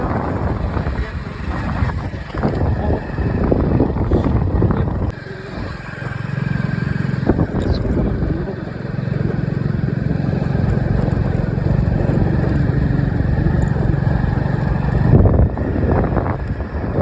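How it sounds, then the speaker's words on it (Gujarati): A motorcycle engine idles and runs steadily after a cold start on a village morning, a continuous close rumble mixed with wind noise, while a person talks over it. "તો બાઇક ચાલુ થઈ ગયું હવે"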